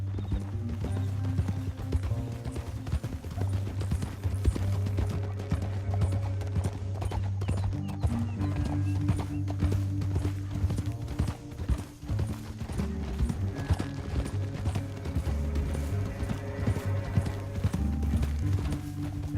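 Horses gallop steadily in Red Dead Redemption 2, with continuous rhythmic hoofbeats clip-clopping under a low musical score.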